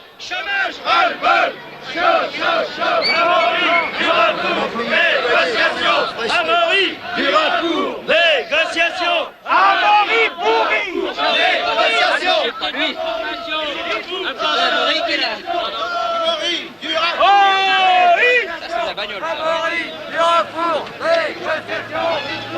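A crowd of demonstrators lining a bicycle race road cheers and shouts loudly and continuously for a favourite rider, a dense roar of voices with yells rising above it throughout.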